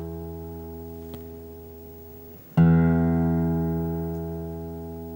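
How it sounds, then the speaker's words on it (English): A single low note on an acoustic guitar's lowest string is struck after a faint tap and rings out alone, slowly fading as it sustains. "this is the lowest note on the guitar, so this is the bottom string"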